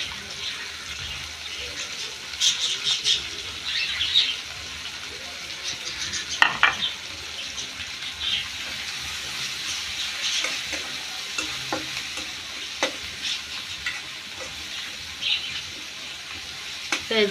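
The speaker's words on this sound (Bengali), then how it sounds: "পেঁয়াজটা ভালো করে ভাজে নেব" Onions and green chillies fry in hot oil in a wok, giving a loud steady sizzle with frequent stirring scrapes and clinks and some water-like splashing, no speech heard.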